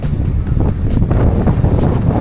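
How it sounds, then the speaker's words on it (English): Strong gusts of wind buffet the microphone outdoors in a boatyard, rumbling loudly in uneven bursts with no voices. "It's pretty windy today."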